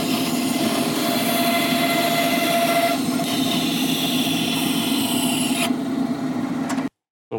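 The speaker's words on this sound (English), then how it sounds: "So we're going to do the rough sanding before we start cutting it up." A steady, loud rasping scrub of rough sanding on a wooden bandsaw box blank runs without a break before stopping abruptly near the end.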